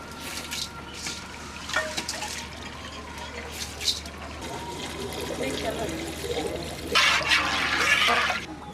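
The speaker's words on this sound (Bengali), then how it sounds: "পরিমাণ মতো পানি দিয়ে দিয়েছি" Water is poured into a pot of rice and lentils for khichuri, a trickling fill that ends in a louder gushing pour, with faint background voices.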